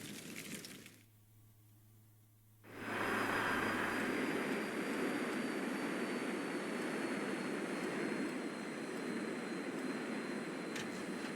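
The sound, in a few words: airplane engine in a video game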